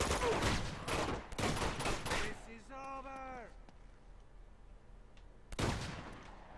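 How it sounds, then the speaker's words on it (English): Shotgun blasts in the video game Uncharted 2, a couple of loud booming shots early on and another near the end, with a voice talking between them. "Yeah, I hear you with your shotgun."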